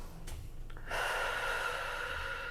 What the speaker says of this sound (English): I want you to do some nice deep breathing.